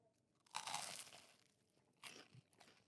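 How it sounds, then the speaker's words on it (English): A hush puppy, a cornmeal fritter like fried cornbread, is bitten into with a crisp crunch, a loud bite followed by softer chewing and a second smaller crunch, close up and alone. "that was a good crunch, by the way."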